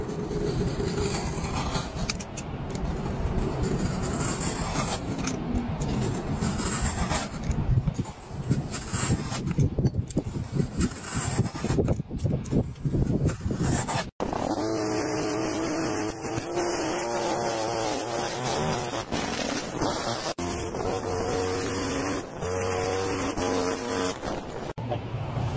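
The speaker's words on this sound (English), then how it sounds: "This stone cutting marvel doesn't just slice, it sinks." Industrial stone-cutting saw slicing rock into slabs, a loud continuous grinding roar with a steady mechanical drone that shifts into a higher, tonal whine partway through and runs unbroken to the end.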